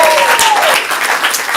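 Audience at a stand-up comedy showcase clapping for a first-time comic, a dense, loud burst of applause filling the whole short moment with a faint whistle at the start.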